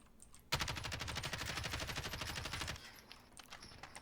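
A sustained burst of automatic gunfire in a tactical video game, about two seconds of rapid, evenly spaced rounds that cut off abruptly, leaving faint background noise.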